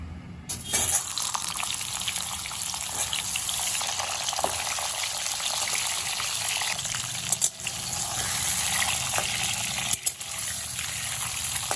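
Pointed gourds drop into hot mustard oil in a wok, giving a steady loud sizzle and crackle that holds throughout with a few brief dips.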